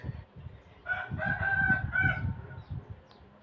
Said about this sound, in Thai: ไก่ไหนขันอีกวะ